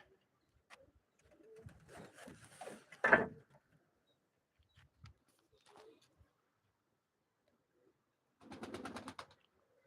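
Pigeons kept on a rooftop terrace loft coo faintly amid quiet surroundings, with scattered soft calls and rustles, a sharper burst midway and a short rhythmic purring coo near the end.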